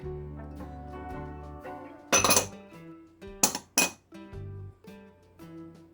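Flour, sugar and cornstarch being mixed in a bowl for fried apples, with a soft background hum broken by a cluster of loud sharp clinks of a utensil against the bowl and two more bright knocks shortly after.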